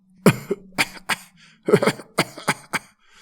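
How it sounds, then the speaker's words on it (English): A series of harsh, hacking coughs in uneven bursts, some doubled, close and fairly loud with short pauses between. "How long have you had that cough?"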